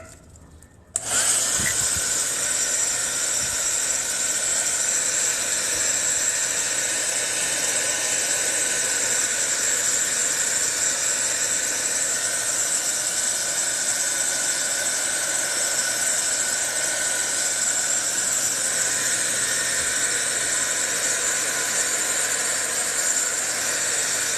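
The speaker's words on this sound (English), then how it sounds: "get the blow dryer and blow this out" A hair dryer switches on with a click and blows steadily, a loud constant whirring whine that holds unchanged for a long stretch, with no talking.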